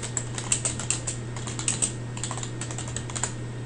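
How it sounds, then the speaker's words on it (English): Steady typing on a computer keyboard while an email subject is entered, a rapid run of close, crisp key clicks over a constant low electrical hum, with no speech. "And then you can type in a title for this email."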